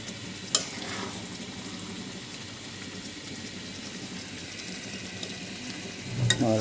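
Beef kala bhuna frying in a pan with dried chilies, a soft continuous sizzle with occasional stirring clicks and a louder scrape near the end.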